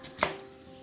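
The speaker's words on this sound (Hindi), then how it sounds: "इतनी देर में प्याज की कटिंग करते हैं" A single knife stroke chopping onion on a cutting board, one short sharp chop standing out clearly against a quiet kitchen background.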